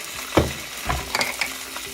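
Cooking wine hitting a hot pan of honey sriracha chicken on medium-high heat, a close, bubbling sizzle with stirring scrapes and soft thumps of the utensil over two seconds.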